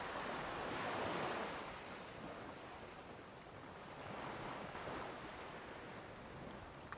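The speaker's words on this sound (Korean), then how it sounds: "여러분의 마음을 파도 소리 듣는 것에 집중을 해보세요" Ocean waves wash in and recede in slow, broad swells of surf, soft and continuous with no voices.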